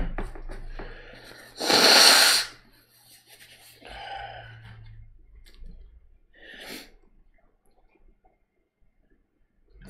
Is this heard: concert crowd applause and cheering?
no